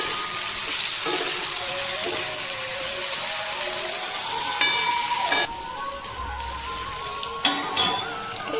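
Potatoes fry in a pan and are stirred in a home kitchen. A constant close sizzle and hiss carries on throughout, broken by occasional clinks and scrapes of the spoon against the pan.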